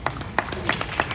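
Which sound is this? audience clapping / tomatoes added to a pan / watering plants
audience clapping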